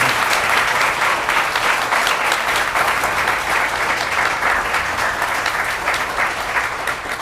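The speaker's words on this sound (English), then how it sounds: "can we get one more round of applause before we get into the questions?" A live-event audience gives a loud, dense round of applause, a continuous wash of many hands clapping that stays full and even throughout, with no talking.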